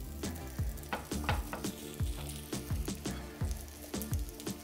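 Apple, yogurt and oat pancakes fry in a pan with a steady close sizzle, broken by repeated soft knocks and scrapes of a utensil pressing the batter flat, no voices.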